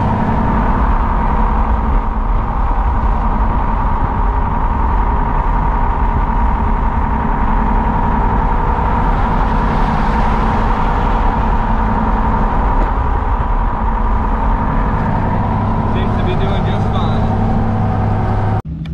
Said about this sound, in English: Towing the new trailer for the first time.